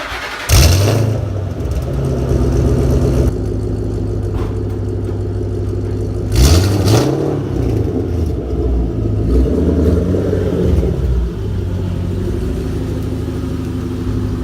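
A car fitted with Steeda charge motion delete plates starts up and revs, two sharp bursts of acceleration rising over a steady idling rumble, loud and close, with no talk.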